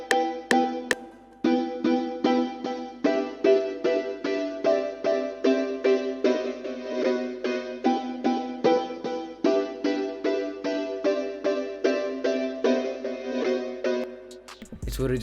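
A simple synth block pattern from the Ravis Astrolust kit follows a trap chord progression, a steady run of short repeated chordal stabs pulsing evenly, moderately loud with no talk.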